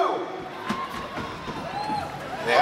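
A crowd at the start of an Oktoberfest relay race at opening ceremonies, with cheering and shouting at moderate distance, swelling and fading, mixed with scattered voices and a few sharp knocks.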